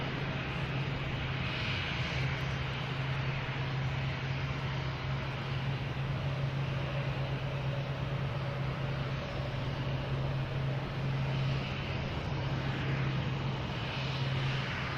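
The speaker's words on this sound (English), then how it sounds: "Air Canada coming in and American Airlines taking off." Airliners at Boston Logan Airport, an Air Canada jet landing while an American Airlines jet takes off, make a steady, broad jet-engine roar with a low hum that holds for the whole stretch, moderately distant and without voices.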